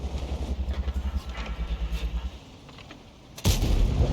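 A tank cannon in a tank video game fires once with a sudden loud blast near the end, after a rumbling, pulsing engine drone from a damaged tank.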